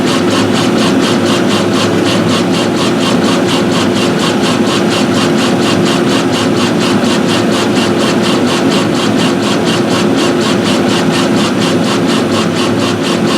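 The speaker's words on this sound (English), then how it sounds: "There is air, compressed air flowing through the nozzle" Compressed air hisses loudly and constantly through the nozzle of a laser engraver cutting acrylic, mixed with a steady mechanical drone and a faint rapid pulsing that does not change throughout.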